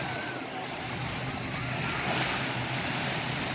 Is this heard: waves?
yes